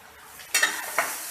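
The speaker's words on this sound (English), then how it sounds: "Give it a stir" Spoon stirring a sizzling pan of sauce with basil, parsley, salt and pepper, a soft steady sizzle with two brief scraping strokes close by.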